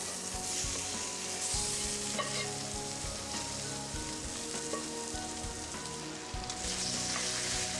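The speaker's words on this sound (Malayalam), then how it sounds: "നന്നായി മിക്സ് ചെയ്ത് ഫ്രൈ ആക്കി എടുക്കാം" Cooked mutton masala sizzles loudly in a pan for a mutton roast, a continuous crackling fry broken by repeated scraping and stirring strokes, with no one talking.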